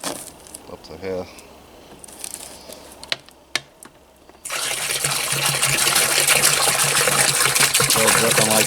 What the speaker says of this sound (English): Still dripping like crazy.